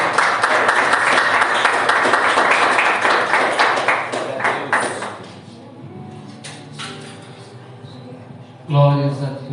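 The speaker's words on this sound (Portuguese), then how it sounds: "que as palmas vão ao Senhor" A church congregation at a Sunday family service claps for about five seconds, dense and fairly loud, then the applause fades into quieter room sounds and scattered voices.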